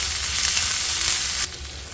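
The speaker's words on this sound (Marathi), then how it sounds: "थोडंसं याला परतून घेऊया" Ginger and garlic sautéing in hot oil in a pan, a bright steady sizzle that drops suddenly in loudness near the end, close and alone.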